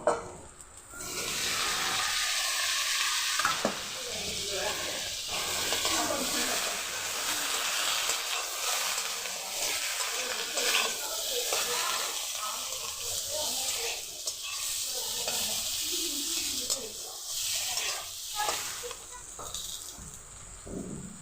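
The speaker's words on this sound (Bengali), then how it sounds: "মশলা কষানো হয়ে গেছে, দিয়ে দিব আলু।" Potatoes are stir-fried in cooked spice paste. A soft, steady sizzle runs under faint stirring with a quiet voice in the background.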